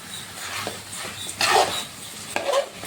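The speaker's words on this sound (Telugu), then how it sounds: "ఒకసారి మనం మధ్యలో చికెన్ని కూడా ఫ్రై మిక్స్ చేసుకుందాం" Chicken for pulao is stirred in a metal pot, with a few scraping knocks of a utensil against the pot over a faint background.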